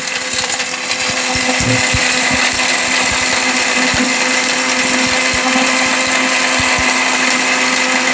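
A 2000-watt blender grinds turmeric with a loud, unbroken high-pitched whir and a rattling, knocking churn as the pieces tumble, close up and alone.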